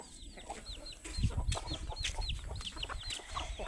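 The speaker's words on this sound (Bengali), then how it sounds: "পোলট্রির মতন মুরগিটা সাদাটা।" White poultry-type hens cluck in repeated short calls, with soft rustling and scuffling close by, fairly faint and with no talk.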